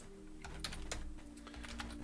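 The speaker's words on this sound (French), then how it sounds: "Donc du coup, on va taper cette commande" Keys clatter on a computer keyboard as a Symfony Doctrine console command is typed, an irregular run of close, crisp taps over a steady low hum.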